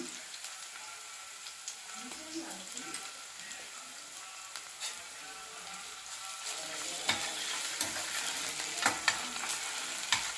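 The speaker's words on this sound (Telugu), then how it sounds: "ప్యాన్లో ఆయిల్ వేసి ఆనియన్ వేసాను. అది వేగుతుండగానే అల్లం వెల్లుల్లిపాయ పేస్ట్ వేస్తాను." Onion frying in oil in a pan with ginger-garlic paste going in for a Telangana broad bean curry: steady close sizzle with scraping stir clicks that grow busier and louder toward the end, no talk.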